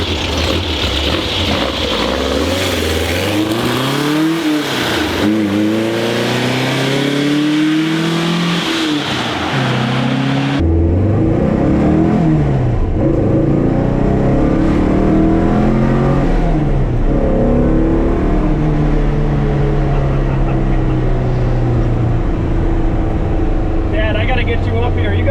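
A 1967 Volkswagen bus camper, rusty, drives with its engine loud and close, revving up and down in repeated rising and falling sweeps before settling into a steady, droning cruise.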